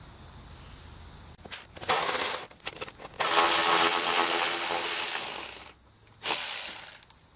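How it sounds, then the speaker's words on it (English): A ratchet backs out 10 mm bolts on a Kawasaki Bayou 220 ATV during a starter replacement, giving loud, close bursts of rapid clicking separated by short pauses. "we're going to start off with taking these two bolts out here"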